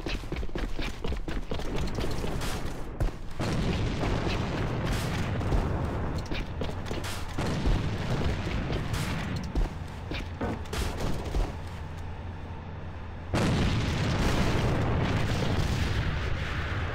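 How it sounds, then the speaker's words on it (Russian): A grenade explosion in A.V.A. Alliance of Valiant Arms, set amid relentless close gunfire and booming blasts, with the battle noise surging loud again after a brief softer stretch. "Бросаю гранату."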